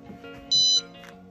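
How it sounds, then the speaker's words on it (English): An Alerta wireless bed pad sensor alarm sounds after its mat is pressed, giving a single short high-pitched electronic beep lasting about a third of a second, clear and close over a faint background. "we're going to press the mat to cause an alarm"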